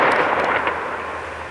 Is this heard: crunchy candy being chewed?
no